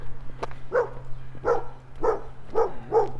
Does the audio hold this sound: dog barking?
yes